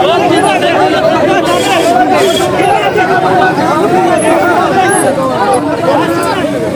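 Loud, dense crowd uproar from striking sanitation workers facing off with police at a protest, with many voices shouting and chattering over each other continuously throughout.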